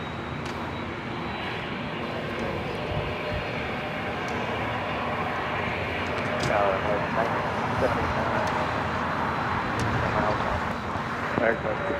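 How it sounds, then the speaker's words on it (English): A United Airlines Boeing 787-9 Dreamliner bound for Denver takes off at LAX, a steady broad jet roar that swells slightly as it continues, with faint voices in the background. "We also have United Airlines flight 1260 heading to Denver at a 787-9 Dreamliner, also heading to 25 right."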